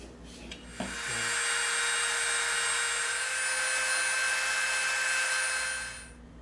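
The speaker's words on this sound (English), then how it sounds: "now here's our 12mm dowel. We're gonna cut." A power tool whines steadily as it cuts through a 12mm wooden dowel, a continuous high-pitched grinding drone that lasts several seconds and then stops.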